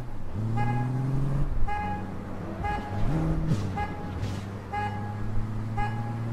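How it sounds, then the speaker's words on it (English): Car horn tooting repeatedly in the video game APB Reloaded, a series of short honks at irregular intervals over a steady engine drone, loud and close. "What's with the incessant tooting?"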